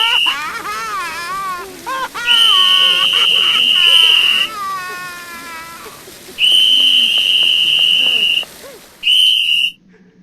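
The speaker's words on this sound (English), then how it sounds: "The birds have escaped!" Escaped birds in Sherlock Holmes The Awakened give high, warbling, whistle-like cries in repeated bursts, some rising and falling, interrupted by a sustained steady high tone that comes and goes.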